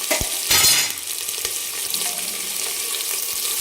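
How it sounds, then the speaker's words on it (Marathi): A full bowl of chopped large onion frying in hot oil, a dense continuous sizzle close by with a loud spattering burst early and a few sharp utensil clicks. "आणि छान ह्याला लालसर सोनेरी कलरवर आपण याला छान तळून घेणार आहे"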